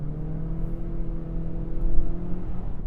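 A 2026 Toyota Corolla XSE pulling away from a full stop uphill in Sport mode, its engine note a steady low drone that swells slightly as it accelerates, heard from inside the cabin.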